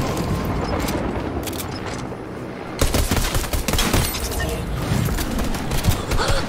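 Gunshots in the Fortnite video game, rapid bursts of loud gunfire and impacts throughout, with player voices talking now and then over the shooting.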